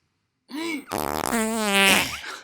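A loud, drawn-out comedic fart with a wobbling, buzzy tone runs about a second and a half alone, no talk over it, played as a gag during a food-themed brunch show.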